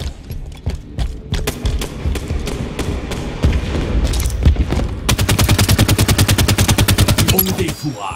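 Close, loud machine-gun fire in the shooter game Halo 5, with scattered shots and thuds giving way to a rapid, sustained burst of evenly spaced rounds near the end.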